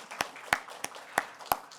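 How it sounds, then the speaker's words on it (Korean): A church congregation at a Friday prayer service claps, with sharp hand claps falling at a loose, uneven pace, only a few distinct strikes standing out clearly without any talk. "박수 한번 쳐주시오"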